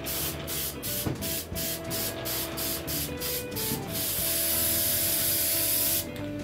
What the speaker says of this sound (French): Je mets 4 couches de lacquer blanc en aérosol